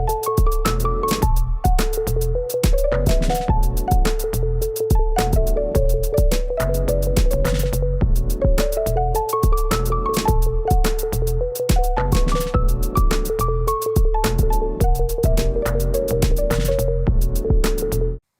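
Chords played through a MIDI keyboard on a Teenage Engineering EP-133 K.O. II sampler, time-stretched sampled notes sounding together over a steady, dense drum beat; loud and continuous, with no talk.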